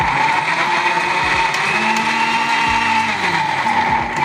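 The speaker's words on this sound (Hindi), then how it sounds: "और अब हम अदरक लहसुन ग्राइंड कर लेते हैं" An electric grinder whirs steadily as it grinds ginger and garlic, a loud, close, continuous motor drone with a high whine and shifting tone as the pieces break down.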